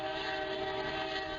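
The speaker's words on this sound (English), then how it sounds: "We see a freight train running along," A freight train travels the Panama Canal railroad between Panama City and the Colon container terminal, giving a steady, loud rumble with a sustained horn-like tone running through the whole short stretch.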